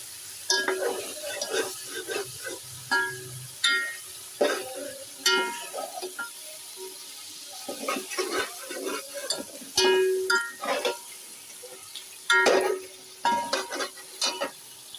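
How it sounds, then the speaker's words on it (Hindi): Yogurt frying in a pot with ginger-garlic paste for yakhni pulao, stirred in repeated bursts of scraping and sizzling, fairly close, with pauses between strokes and no talk. "मैंने भुनना शुरू कर दिया"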